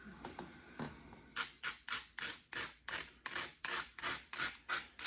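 An obsidian point is worked at its fragile tip with short, rhythmic abrasive strokes, about a dozen quick rasping scrapes in a row, close and fairly quiet, starting after a few softer scratches.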